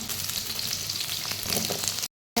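Onion, green chilli and cashews sauté in hot oil in a pan, a steady close sizzle holding throughout before cutting off abruptly near the end.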